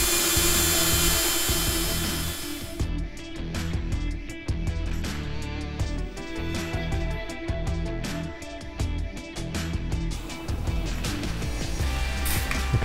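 A grain mill driven through a drill chuck at about 500 RPM, a steady loud whirring drone with rapid crunching and ticking as grain feeds through the rollers, continuous throughout with no talking.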